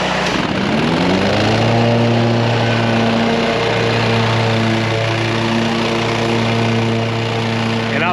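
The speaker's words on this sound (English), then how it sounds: "whenever you're mowing something this tall and this wet" A lawn mower cuts through tall, wet grass, its engine running loud and steady up close for the whole stretch, with a droning hum that wavers slightly as it works through the growth.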